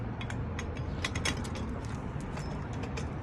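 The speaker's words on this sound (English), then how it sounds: "we're just going to go ahead and unscrew that bolt" A bolt being unscrewed from the wheel of a MAXTRA E120 electric scooter during assembly, giving a steady run of quick metallic ratcheting clicks and faint creaks over a continuous mechanical hum, close up with no talking.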